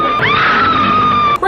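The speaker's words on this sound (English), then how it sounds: "all she does around Kong is scream." A woman screams in a King Kong film scene, one loud sustained high wail rising then holding steady for over a second before cutting off.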